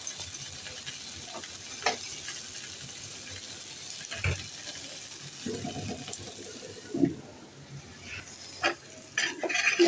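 Sweet pumpkin and onions frying in a pan, with a soft, steady sizzle under intermittent scraping and clacking of a stirring spoon, close by.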